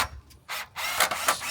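Whirring mechanical bursts from a screw driver sinking screws into the frame of a Dunster House log cabin pub shed, several uneven pulses close by, with no talk.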